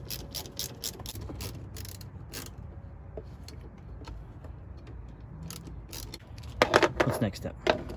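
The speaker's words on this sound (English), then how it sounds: "Let's tighten down some hose clamps." A 5/16 ratchet tightens hose clamps on a Steeda cold air intake being installed on a car, making rapid clicking pawl bursts in short repeated runs, close up, with a louder flurry of clicks near the end.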